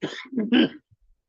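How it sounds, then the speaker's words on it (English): A short burst of rough, throaty coughing, two or three close hacks in quick succession, then silence. "I'm coughing so much I'm going to give it up here too."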